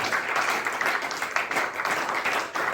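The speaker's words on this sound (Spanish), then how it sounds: "Vamos a palmas al Señor con todo el corazón." A church congregation claps together in praise during a sermon on salvation, a dense, continuous burst of many hands lasting a few seconds with no talk over it.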